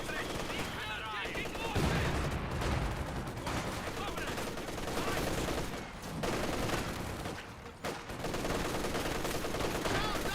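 Machine guns, an MG34 and a Maxim, rattle in a Company of Heroes 2 battle with dense, overlapping bursts and sustained fire, a short lull near the end, then more shooting.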